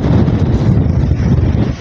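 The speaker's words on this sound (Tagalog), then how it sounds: "Tinutulak na, sobrang lakas ng hangin." Strong wind roaring into a microphone beside a pond with water lilies after heavy rain, a loud, low, constant buffeting rumble with no voices.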